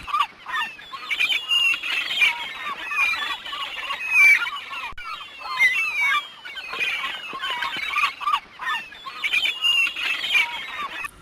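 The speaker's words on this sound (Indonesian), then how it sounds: "ditemani oleh beberapa burung camar" Seagulls at an estuary call repeatedly in shrill, overlapping squawks and cries, fairly close and steady throughout with no talk.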